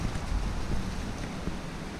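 Sherman Falls in Hamilton rushes with a continuous, dense roar of falling water, broad and steady throughout with no voices over it.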